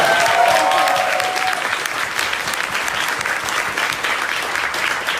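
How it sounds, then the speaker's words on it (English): Audience at a town hall event breaks into steady, dense applause, loud and sustained throughout, with a brief voice over the clapping at the start. "can we give him applause for coming in here?"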